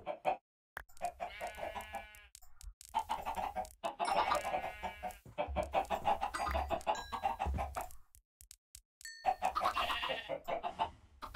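A flock of chickens in a Minecraft-style video game clucks busily in repeated bursts, with a rooster-like crow mixed in and short pauses between, nearby and fairly loud.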